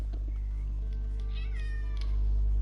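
A cat in Red Dead Redemption 2 Online meows once, a drawn-out mew over a loud, constant low hum.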